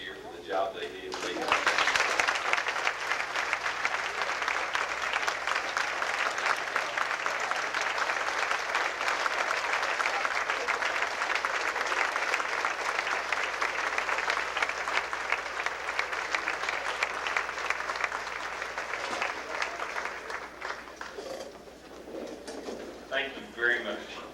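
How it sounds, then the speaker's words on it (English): A banquet audience at a football booster club dinner gives the coaching staff a long, dense round of applause that swells quickly, holds steady for about twenty seconds, then tapers off. "I think we owe them a big round of applause for our entire coaching staff this year"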